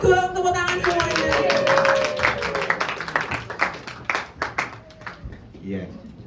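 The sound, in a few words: audience clapping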